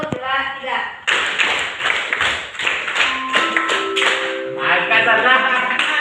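A class of high school students plays a counting clapping game during a guidance lesson: bursts of group hand claps in short rhythmic patterns, mixed with voices, laughter and talk that run between and over the claps.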